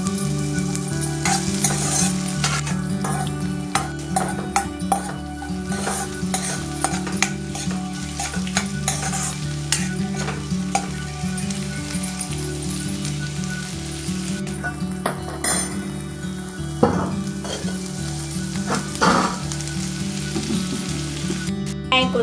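Curry leaves sautéing in oil in a pan for a drumstick-leaf egg stir-fry: a loud, continuous sizzle and crackle with steady stirring scrapes and occasional pan knocks throughout, close up and with no talk.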